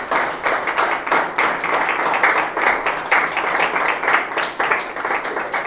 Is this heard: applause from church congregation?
yes